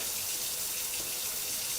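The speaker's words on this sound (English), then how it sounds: "First turn on the water, because safety is always first." Water runs from a sink tap in a steady, hissing stream, close and constant for the whole short stretch, with no one speaking.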